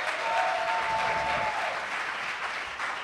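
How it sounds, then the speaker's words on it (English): Audience applause at an independent film awards ceremony, a steady wash of many hands clapping throughout with a thin tonal whistle briefly riding over it, no talk. "So give Floyd one more round of applause, please."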